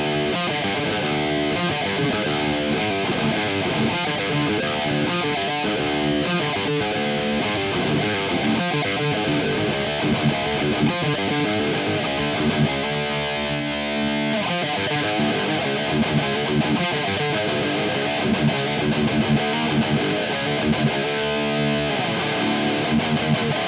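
Heavily distorted electric guitar played through a Marshall DSL amp and a Quad Cortex capture, aiming for a thrash-style rhythm tone; loud, dense palm-muted riffing with choppy chugs and brief stops, continuous throughout.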